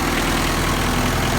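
A Honda K20 engine swapped into a Mazda Miata, fitted with a custom exhaust manifold, idles with a steady, close, low rumble and an even pulsing throb.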